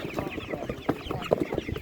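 Chickens and roosters cluck and squawk at an animal market, a busy overlapping chorus of fowl calls close by with no talk over them.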